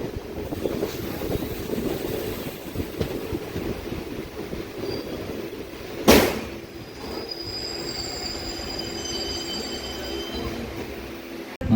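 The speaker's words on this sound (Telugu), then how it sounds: "ఒక 2 మినిట్స్ స్టాప్ తర్వాత మన ట్రైన్ అయితే ఈ స్టేషన్ నుంచి అయితే మూవ్ అవుతుంది" Passenger train pulling out of Lakshmipur Road, a curved station on the Rayagada–Koraput line, with a continuous rolling rumble and rattle, a sharp loud burst midway, then high thin wheel squeals over the moving carriages.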